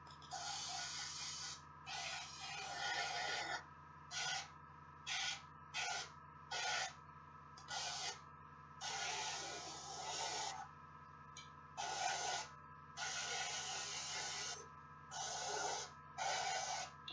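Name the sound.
airbrush spraying base coat paint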